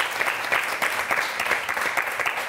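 Studio audience applauding on the Motus game show, dense steady clapping from a crowd, loud and continuous throughout.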